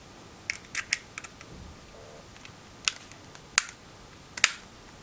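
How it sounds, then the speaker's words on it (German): Small metal screw being loosened with a screwdriver while taking apart a photo camera for infrared conversion, heard as a series of sharp, close clicks and ticks spaced irregularly over quiet background. "diese Schraube muss ich auch lösen"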